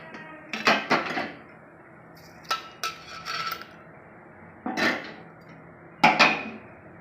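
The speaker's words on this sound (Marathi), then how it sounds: "आता मी हे कांदा काढून घेणार आहे डिशमध्ये" Metal spoon scraping and clinking against a pan and dish while fried onion is transferred out in a home kitchen, several short clattering bursts separated by pauses, close and fairly loud with no talk.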